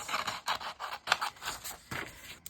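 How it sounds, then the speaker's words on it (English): Sharp scissors snip around an altered playing card for a junk journal, a series of close, crisp cutting strokes with papery scraping between them, no talk over them. "This is a sharp knife, scissors, so it just kind of cuts really easily."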